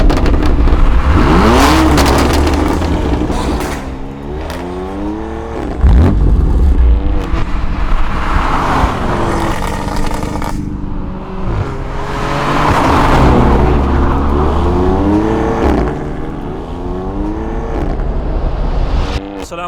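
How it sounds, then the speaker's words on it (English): A 2020 Mercedes CLA45s engine revs hard and accelerates in repeated loud surges, with rising and falling pitch sweeps and brief lifts between pulls, close and dominant throughout. "That right there is a 2020 CLA45s."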